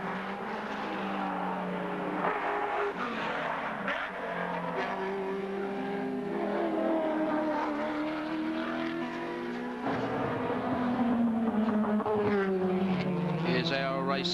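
Touring cars racing at the 1990 Tooheys 1000 at Bathurst, their engines revving with rising and falling pitch sweeps as they pass through turns while a commentator talks over the sound.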